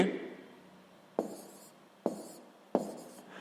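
Handwriting of a subtraction problem done in a column for a sixth-grade math exercise, with soft pen or chalk scratching that builds into three sharp taps or strokes spaced about a second apart, close and fairly quiet, with no speech.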